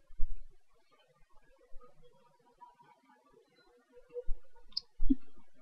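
A computer mouse clicks a few times, sharp and close, with soft scattered clicks and quiet gaps between them, and no one speaking.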